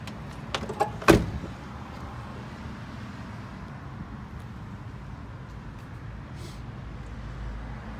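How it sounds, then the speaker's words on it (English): A 1999-2003 Chevrolet Silverado pickup door opens with a single sharp latch click and clunk near the start, followed by a steady low background hum with no talk. "Doors open."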